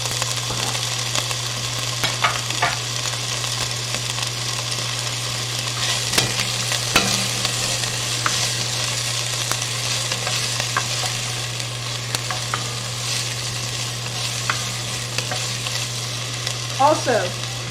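Andouille sausage frying in oil in a pan, a loud, steady close sizzle with occasional scraping stirs and a constant low hum underneath.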